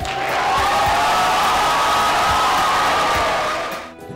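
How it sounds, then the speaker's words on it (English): A dense, steady roar of applause and crowd cheering from an audience at a police academy graduation ceremony for the 176th class. It holds loud and continuous for about four seconds, then tapers off at the end. "Feel free to applaud."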